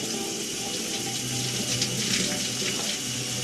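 A shower runs in a steady, hissing stream of water throughout, close and continuous with no voices, in a scene from the movie The Lookout.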